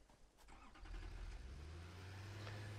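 Tractor engine in the video game Satisfactory, starting up and settling into a steady low hum that grows louder after the first second, with no talking.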